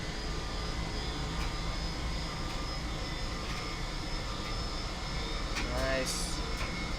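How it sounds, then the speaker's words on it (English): An Airbus A320 engine spins up in the Microsoft Flight Simulator 2020 video game, producing a loud, continuous jet roar with sustained whining tones throughout, with a possible faint voice in the background. "Hear the engine starting up."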